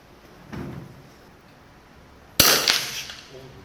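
A rifle shot at a 50 m shooting range: one sharp, loud crack with a short reverberant tail, coming after a softer dull knock in an otherwise quiet space.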